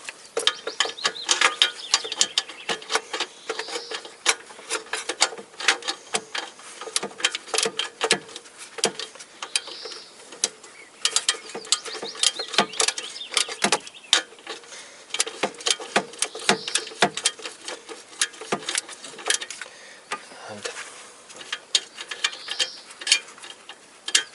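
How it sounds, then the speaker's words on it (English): A ratchet with a 17mm socket works an exhaust bolt on a 1992–2002 Toyota Camry, making rapid, close clicking pawl bursts in repeated runs for over twenty seconds. "I need this socket, 17mm socket"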